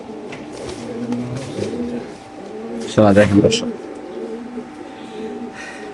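Pigeons coo repeatedly at a pigeon farm, soft and close, while someone talks over them, and one louder burst of cooing stands out midway.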